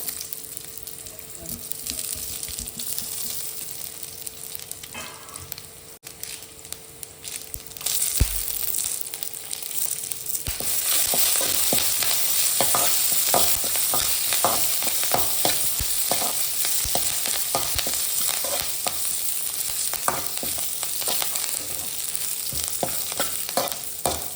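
Food frying in a pan for basale pundi, a Tulu dish from Mangalore, is stirred and scraped. Sizzling starts quieter, then swells after about eight seconds into loud, steady frying with frequent spoon scrapes and no talking.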